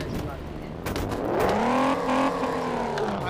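A car engine revs up with a rising, sustained drone in a car parking video game, steady and fairly loud, while someone talks over it.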